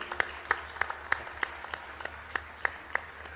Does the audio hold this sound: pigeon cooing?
no